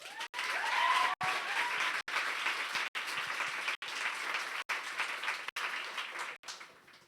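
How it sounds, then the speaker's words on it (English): Steady, full applause from a crowd welcoming youth speakers at a discussion on gun violence. The clapping is loud and continuous throughout, broken by brief cuts, and fades slightly at the end. "So can we have a round of applause for them?"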